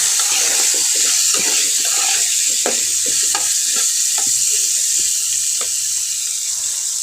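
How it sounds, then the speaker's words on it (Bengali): Potato pieces frying in oil while a spatula turns them, loud continuous sizzle with repeated scrapes and knocks against the pan, heard up close with no speech. "আলুগুলো আমি খুন্তির সাহায্যে লাড়াচাড়া করে ভেজে নিচ্ছি।"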